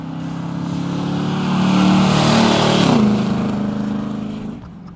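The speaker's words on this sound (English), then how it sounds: "Here comes that Carousel Red 1976 Trans Am with a 400, 3-speed automatic transmission and dual exhaust." A Carousel Red 1976 Pontiac Trans Am with a 400 V8, 3-speed automatic and dual exhaust drives past, its deep exhaust drone swelling as it nears, peaking close by, then dropping in pitch and fading as it pulls away.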